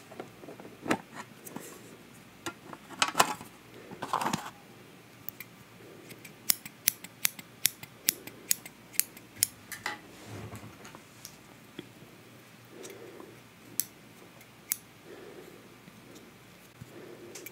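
Small scissors lightly trimming eyebrows, delivering a close, quiet series of crisp snips, scattered irregularly over a near-silent background with no talking.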